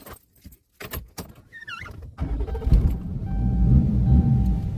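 A diesel truck engine cranks and catches, firing up into a loud, steady rumbling idle after a few seconds of clicks and rattling handling noises.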